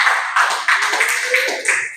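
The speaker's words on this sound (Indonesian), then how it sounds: "tepuk tangan sekali lagi untuk kelompok 3" Classroom applause for group 3 as students clap together, a dense, steady patter of many hands lasting a couple of seconds with no talking.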